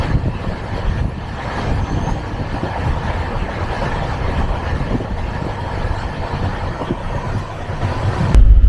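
The Kolkata–Dibrugarh summer special train runs near New Cooch Behar, producing a steady loud rumble and rattle of wheels and carriages heard from on board for the whole stretch, with no talking.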